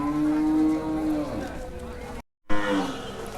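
A cow moos loudly at the Hozrotpur cattle market, one long drawn-out low call that fades, then a short gap and a second moo. Faint crowd noise sits underneath.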